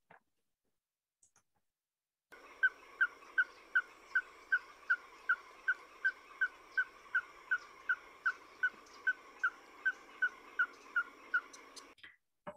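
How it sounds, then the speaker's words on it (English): A small owl calling: a long, monotonous run of identical short beeping notes at an even, steady pace, about two per second, clear against a quiet background. "They have a very distinct call, which sounds like a monotonous beeping."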